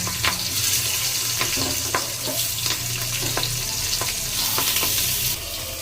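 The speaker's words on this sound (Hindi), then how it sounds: "उधर मम्मी ने मिर्ची छौंक दी है पैन में" Steady, close sizzling and crackling of chillies tempering in hot oil in a pan in a home kitchen, with a few sharp spatters and pops throughout.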